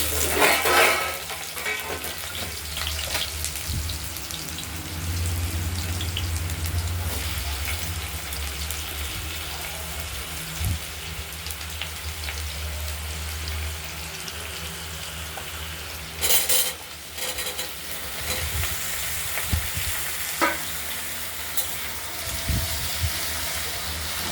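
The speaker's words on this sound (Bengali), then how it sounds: "আলুগুলোকে একটু তেলেতে নাড়াচাড়া দিয়ে পরিমাণ মতো নুন দেবো" Potatoes frying in oil in a pan with cumin and dried chilli, giving a steady close sizzle with occasional scraping and stirring knocks and no talking.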